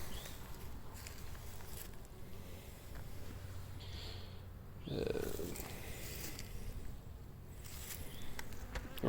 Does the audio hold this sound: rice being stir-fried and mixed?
no